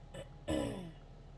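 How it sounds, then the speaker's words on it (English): A single short, low throat clearing, close and fairly quiet, followed by silence. "Let me clear my throat."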